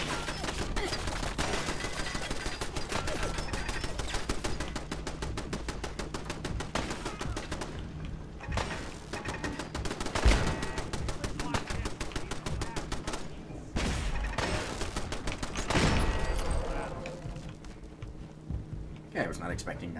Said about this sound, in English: Not expecting defensive turrets on the outside of this here building